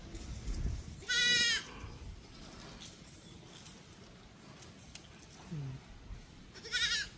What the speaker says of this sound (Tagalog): Ito po yung update ng ating kambing.